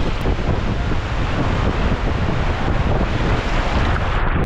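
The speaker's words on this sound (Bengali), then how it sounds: "এই সি বিচের ধারে জলের মধ্যে, আর এরকম ঢেউ আসছে মাঝে মাঝে।" Sea surf on the beach at Mandarmani, a dense continuous roar of waves and water mixed with heavy wind buffeting close to the microphone, with no talking.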